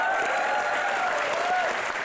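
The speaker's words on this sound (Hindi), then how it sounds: "इन दोनों के लिए जोरदार तालियां हो जाए" Audience applause in a comedy show studio, a dense steady burst of clapping from a crowd for about two seconds with no break.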